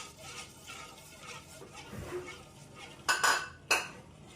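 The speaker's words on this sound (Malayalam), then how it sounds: "ഇനി നമുക്ക് റവ ഇട്ട് കൊടുക്കാം ഇനി നന്നായിട്ട് നമുക്ക് മിക്സ് ആക്കാം" Rava being stirred into payasam in a pot, faint soft scraping followed by a few louder metallic clinks of a spoon against the vessel, quiet and close.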